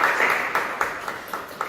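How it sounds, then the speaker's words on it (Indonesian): Brief applause from a class in a teaching session for group 2, a short scattered burst of several claps at moderate loudness with no talk over it. "Beri tepuk tangan untuk kelompok 2."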